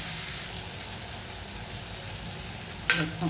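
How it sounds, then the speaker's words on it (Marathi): Dried Bombay duck (bombil) sautéing in hot oil for a spicy Maharashtrian chutney, giving a steady close sizzle with a brief clatter near the end. "मग थोडं 1-2 सेकंद ह्याला आपण तेलामध्ये छानपैकी परतायचं आहे"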